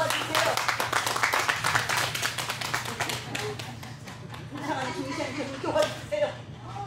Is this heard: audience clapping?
yes